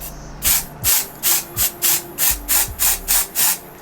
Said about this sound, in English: I'm going to just spray the lace like so.